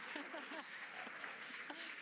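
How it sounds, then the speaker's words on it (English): A crowd at a SpaceX Crew-10 rocket launch cheering and applauding, a steady wash of clapping with scattered whoops. A voice talks over the noise. "the crowd is going wild."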